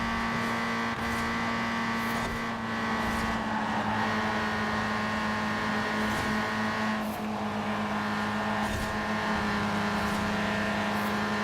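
A Volkswagen Golf GTI tuned for C Class front-wheel-drive rally racing in Forza Horizon 4 holds full throttle near top speed, a loud sustained engine drone with steady pitch and no talk.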